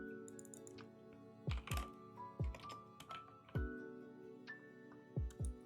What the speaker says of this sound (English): You guys are probably gonna hear my mouse clicking a lot more